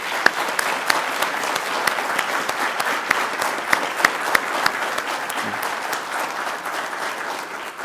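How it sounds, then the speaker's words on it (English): Sustained audience applause at a spring Army ROTC commissioning ceremony, honoring newly commissioned second lieutenants; dense, steady clapping from a large crowd with a few sharper individual claps standing out, continuing throughout without speech. "join me in a round of applause for our newest Army second lieutenants"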